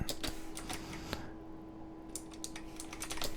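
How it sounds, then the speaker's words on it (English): Someone types on a computer keyboard, producing a close run of quick, irregular key clicks with a brief pause in the middle before the tapping resumes. "I'm going to be finishing typing that up in a sec"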